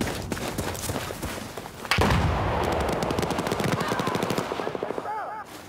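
Automatic rifle fire rattles in rapid bursts during a Battlefield 4 match on the Dragon Valley map, loud and close, with a heavy boom partway through and faint distant shots trailing off at the end.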